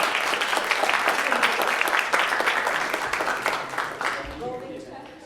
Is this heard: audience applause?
yes